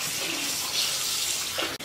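Hot water running steadily from a tap into a hotel bathtub or sink, a continuous close hiss of splashing flow with a brief break near the end.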